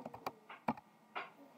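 Computer keyboard typing while entering a derivative expression, a handful of quiet irregular keystroke clicks with short pauses between them, no voices.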